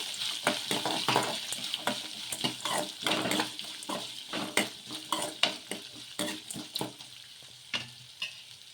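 Chopped onions and green chillies frying in a pan and being stirred, giving a close, continuous sizzle broken by repeated scraping strokes of the spoon against the pan.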